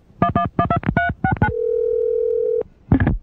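A telephone is dialed, with quick bursts of touch-tone beeps followed by a steady tone lasting about a second, then another pair of dialing beeps; loud and close, with no talking.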